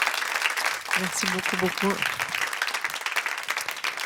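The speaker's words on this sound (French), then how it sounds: "Merci, on peut l'applaudir." Audience applause for a woman named Émilie after her testimony, a dense, steady clapping wash lasting throughout, with a voice briefly speaking over it early on.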